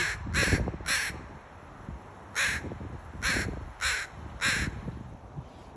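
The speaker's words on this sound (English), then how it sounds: "But that crow, he's telling Mister, just stay away from me." A crow caws repeatedly outdoors, loud and nearby, in two quick pairs followed by three evenly spaced single calls over steady background noise.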